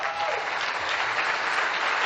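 Crowd applause following a speech about freedom, a continuous, even roar of clapping hands heard at moderate level, slightly muffled as if from a broadcast recording.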